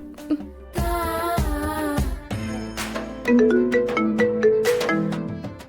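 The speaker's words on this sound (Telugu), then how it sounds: "రింగ్ అవుతుంది." A mobile phone rings with a loud, melodic tune of repeating chiming notes, heard close and alone without talk.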